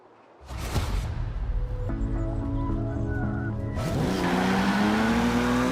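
A Jaguar car driven in Forza Horizon 4, its engine starting up and holding a steady tone, then revving higher with a rising whine and loud tyre noise near the end.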